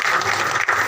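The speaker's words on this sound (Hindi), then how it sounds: "जोरदार ताली सम्मान करो" Loud, steady audience applause at a Satnami community religious gathering, honouring guests; dense clapping fills the whole moment with a brief dip near the end.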